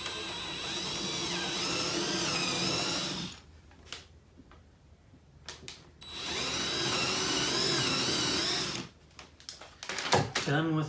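A power drill bores down through a sacrificial wood block clamped on a workbench, whining steadily for a few seconds, pausing, then running again for a longer stretch before stopping, close and loud.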